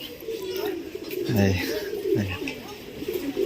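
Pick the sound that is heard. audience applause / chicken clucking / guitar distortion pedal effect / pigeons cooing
pigeons cooing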